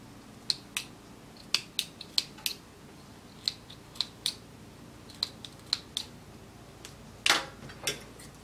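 Scissors snip through dress fabric close to a stitch line in a series of short, crisp, close cuts at an uneven pace, with brief pauses between snips and no voices.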